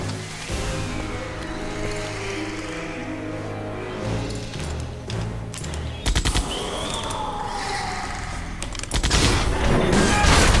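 Gunfire in a Jurassic Park video game: bursts of rapid machine-gun fire and single shots, loud and close, alongside engine-like rumble and game sound effects, with no voices.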